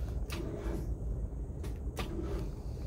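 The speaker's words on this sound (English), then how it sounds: "This is the dead battery sound." A Subaru Sambar with a dead battery failing to start, its headlights left on: low, steady mechanical rumble with a few brief clicks, heard close up with no talking.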